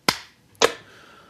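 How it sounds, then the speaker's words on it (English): Two sharp hand claps to sync a recording, crisp and close, about half a second apart, with a quiet room between them. "Hey, let's clap."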